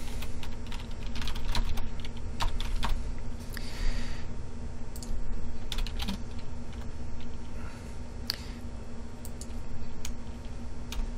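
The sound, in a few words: typing an email on a computer keyboard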